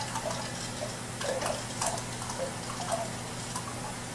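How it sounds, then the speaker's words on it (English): Salt being stirred into water to dissolve it, giving soft, irregular clinks and liquid swishes against a faint steady hum, close and quiet with no talking. "So I'm gonna stir the product so that I will give time for the salt to dissolve."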